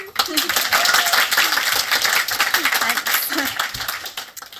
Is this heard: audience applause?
yes